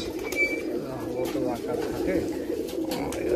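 Domestic Giribaz pigeons coo steadily in a loft, a low continuous murmur of overlapping calls at moderate volume with talk mixed in.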